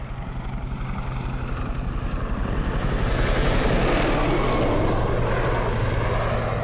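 Helicopters flying over a riverbank patrol area, a loud steady rotor and engine roar that swells as they draw nearer and passes overhead.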